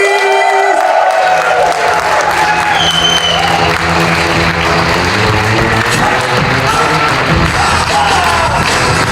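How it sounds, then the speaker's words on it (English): Loud, steady applause and cheering from an audience at an international improv theatre festival, dense clapping with shouts and music-like tones mixed in throughout. "please give a maximum applause for those people"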